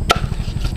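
A large goby fish is chopped with a big cleaver-style dragon knife, giving one sharp chop on the board followed by a fainter second cut.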